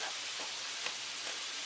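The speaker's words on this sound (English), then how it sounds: "oh, look at that bacon sizzle" No-sugar uncured bacon sizzles in a pan with a steady, even crackling hiss that stays fairly soft and close throughout, with no voices.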